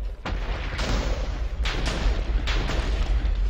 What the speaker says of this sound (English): Nothing better than the sound of explosions